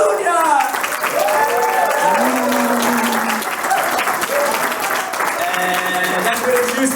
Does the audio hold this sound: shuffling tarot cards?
no